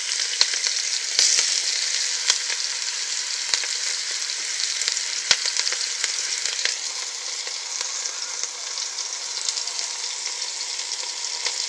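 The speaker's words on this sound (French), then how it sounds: "Alors, notre huile est chaude, donc on va juste venir mettre nos oignons émincés dedans." Sliced onions fry in hot oil for a Senegalese domoda, a steady dense sizzle with a few brief crackles and pops, close and continuous with no talking.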